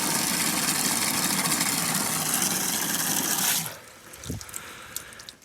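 Water gushes from household plumbing at a high flow rate of 40 litres per minute, a loud steady hiss that cuts off abruptly near the end, leaving faint clunks.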